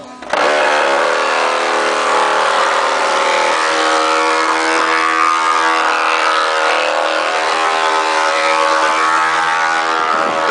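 The wheels of a wooden ox cart travelling toward Trindade give off a loud, continuous, droning creak as the cart rolls, a sustained singing tone that holds steadily from just after the start to the end.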